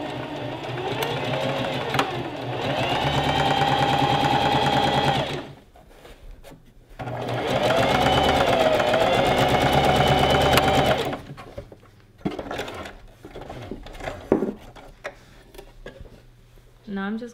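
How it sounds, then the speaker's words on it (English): An electric sewing machine stitches dress pieces together in two long continuous runs of fast whirring, separated by quiet pauses with a few handling clicks and knocks. "So we're going to sew them together, right sides facing each other."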